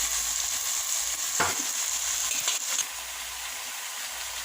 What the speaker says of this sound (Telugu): అలాగే టమాటా ముక్కలు కూడా వేసుకుని ఫ్రై చేసుకున్నాం